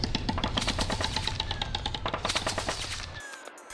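Rapid machine-gun style pyrotechnic special effect, a loud dense stream of sharp crackling bursts that runs for about three seconds and then stops abruptly.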